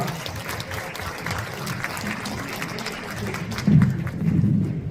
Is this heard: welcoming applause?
yes